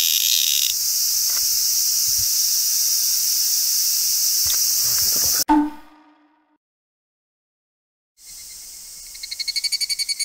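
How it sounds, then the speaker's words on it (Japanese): A minmin cicada (Hyalessa maculaticollis), caught while collecting insects in Fukuchiyama, Kyoto, gives a loud, steady, close buzz that stops abruptly. After a few seconds of silence it starts again and turns into a rapid pulsing call. "ミンミンゼミゲット。"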